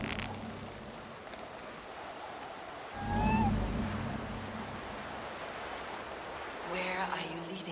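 A small cat in a Viking-era video game gives a short, thin meow, heard faintly over steady rain-like ambient noise with a low rumble swelling briefly near the middle.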